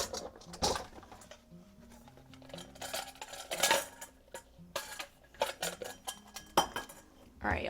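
Small bowls are pulled out and set down in a kitchen, giving repeated clinks and clatters of dishes and cutlery with uneven pauses between them, close by and fairly loud.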